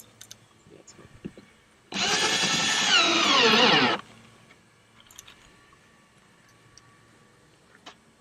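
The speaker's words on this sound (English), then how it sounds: "You want to be able to drive your screws in so that the heads are countersunk." A power drill driving screws into the wooden panels of an American kestrel nest box, one loud continuous whirring burst of about two seconds, close by, with faint knocks and handling noise before and after.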